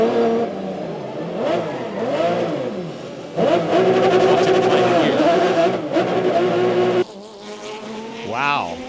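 Onboard sports prototype race car at the 2002 Miami ALMS race, engine revving hard through repeated rising and falling gear changes, loud and close, with a deep drop in pitch near the end.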